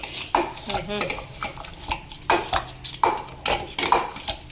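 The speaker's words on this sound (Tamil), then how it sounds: "இது நல்லா ப்ரெஸ் பண்ணிட்டோம்னா மோர் கடைஞ்சிடும்" Buttermilk being churned with a press-type hand churner: repeated sloshing, clinking strokes in a loose rhythm about once a second, close and moderately loud.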